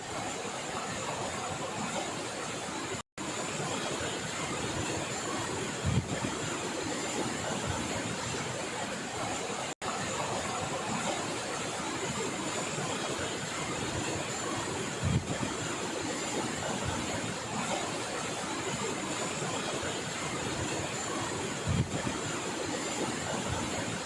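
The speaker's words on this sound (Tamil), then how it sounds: "தொடர் மழையால் குற்றால அருவிகளில் காட்டாற்று வெள்ளம் பெருக்கெடுத்து ஓடுகிறது." A flash-flood torrent pours over the Courtallam waterfalls after continuous rain, a loud, steady, unbroken roar of rushing water that fills the whole stretch with no voices.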